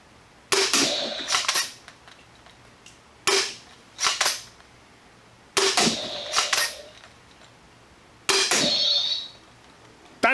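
Foam dart blaster with a quick-disassembly design firing bamboo darts, four sharp cracking shots spaced a couple of seconds apart, each followed by brief clattering mechanical noise, loud and close.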